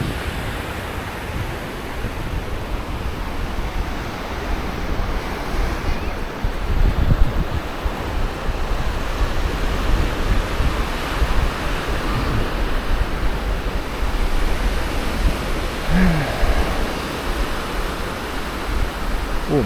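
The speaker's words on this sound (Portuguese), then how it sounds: "O mar." Ocean surf rolls steadily onto the beach at Canasvieiras in Florianópolis on a breezy summer morning, a continuous wash of breaking waves mixed with wind rumble across the microphone.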